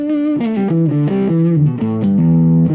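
Electric guitar played through a Magic Dust Duo overdrive pedal with its boost engaged, giving a loud, driven tone as a series of sustained single notes moves down and back in a steady phrase, with no talking.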